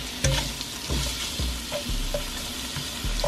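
Sausages browning in a pan for smothered okra with shrimp, sizzling steadily with repeated scraping stir strokes about every half second, close and fairly loud, no talk.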